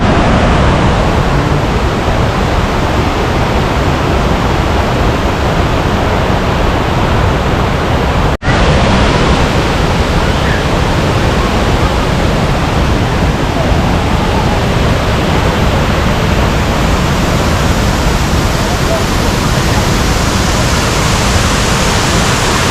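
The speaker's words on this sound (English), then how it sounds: "What do you think of this waterfall, baby?" A waterfall near Luang Prabang, Laos roars in a loud, dense, unbroken rush of falling water for the whole stretch, with only one brief dropout partway through and no voices.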